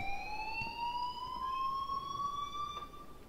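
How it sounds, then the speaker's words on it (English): Electronic fire alarm in the Life Is Strange video game, a steady high-pitched tone with sharp harmonics ringing continuously and loudly over faint room background, no talk. "please turn off that alarm since that's your job"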